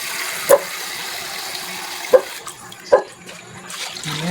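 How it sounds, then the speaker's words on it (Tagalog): Water splashes and flows into a cooking pot of pork and stock cubes, with a few sharp clinks of metal cutting through the steady pour. "Dagdagan ko ito ng water, tubig."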